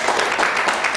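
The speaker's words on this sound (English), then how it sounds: "A round of applause for that wonderful session, sir." Audience applause closing a study circle session on GST reverse charge: a steady, dense wash of clapping from a roomful of members, even and sustained throughout, with no voices standing out.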